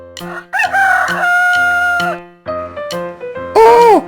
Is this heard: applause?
no